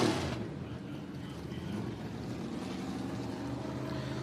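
Race cars roar off turn four at the green flag of a heat race at Bakersfield Speedway, a steady loud engine drone that stays dense and constant throughout with no voices.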